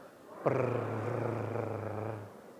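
A group of people imitate a cat's purr together, a low rumbling drone that starts abruptly, holds steady for about two seconds, then stops.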